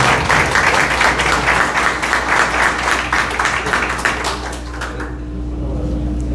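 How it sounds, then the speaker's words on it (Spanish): A crowd at a medal ceremony applauds in a dense, continuous patter of clapping that slowly fades toward the end. "Fuertes aplausos, por favor."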